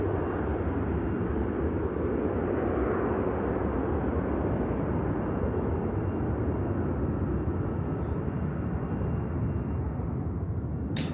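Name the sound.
Lufthansa Airbus A321 airliner at Manchester Airport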